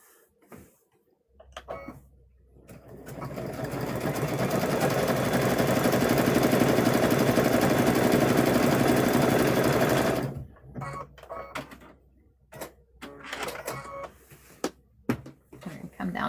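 A sewing machine runs steadily for about nine seconds as it stitches a patchwork gnome lap quilt, loud and close with a continuous whirring drone, then stops, leaving quieter handling sounds and a little talk.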